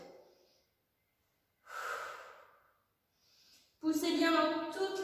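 Slow breaths in and out during a push-up on a Swiss ball in a home workout, with two soft airy exhalations separated by quiet pauses, then a voice speaking close by.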